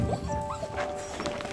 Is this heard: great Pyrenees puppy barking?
yes